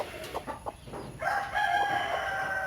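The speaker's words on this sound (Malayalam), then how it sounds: "ഇതാണ് അട വയ്ക്കാൻ പാകമായ അല്ലെങ്കിൽ പൊരുന്നൽ വന്ന അടയിരിക്കാൻ തയ്യാറായിട്ടുള്ള കോഴി" A broody hen, ready to sit on eggs, gives a few short close clucks, then breaks into a sustained, drawn-out call that holds steady to the end.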